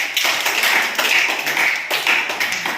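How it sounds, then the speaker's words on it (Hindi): Children clap together in a classroom at a primary school during a number-writing lesson, a quick run of sharp, close claps repeating steadily for about three seconds with no talk. "बहुत बढ़िया, ताली बजाओ।"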